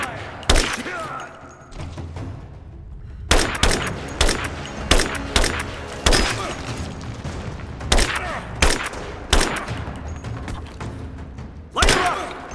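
Gunfire from the 2015 video game Rise of the Tomb Raider comes as sharp, loud shots, some single and some in quick clusters, spread across the clip over a background of game ambience.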